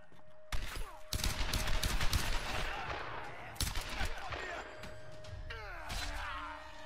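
Lara fires guns in the Tomb Raider (2013) video game, loud rapid bursts in two dense volleys separated by a short pause, with faint vocal sounds mixed in.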